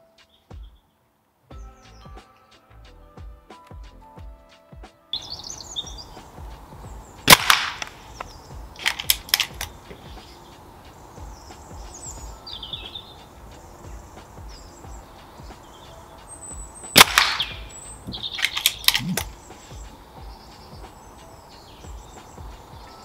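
Air Arms Galahad side-lever air rifle firing .177 Diablo Field pellets at a 30 m target, heard as two sharp, close shots with the metallic clack of the lever between them, over a quiet outdoor background of faint birdsong.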